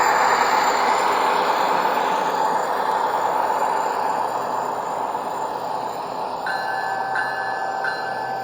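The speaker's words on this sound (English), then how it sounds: "Here, we see the locomotives pull out a string of grain hoppers that were recently unloaded." New SERA six-axle genset locomotives switch a string of empty grain hoppers, giving a steady, heavy rumble of rolling freight cars. Thin wheel squeals rise toward the end, with no talking.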